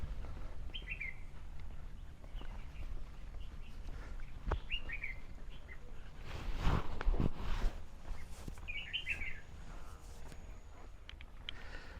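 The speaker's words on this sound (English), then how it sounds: "Lots of birds." Birds chirp in scattered short bursts in a park on Victoria Peak, Hong Kong, moderately distant over a quiet outdoor background, with footsteps and a few rustling knocks nearby.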